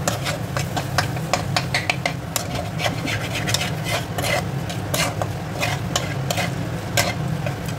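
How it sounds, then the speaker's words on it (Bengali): Pumpkin and spices being stirred in a hot pan, with a steady sizzle under repeated scraping strokes of a spoon against the pan, close and fairly loud, with no talk. "এবার একটু নেড়ে চেড়ে"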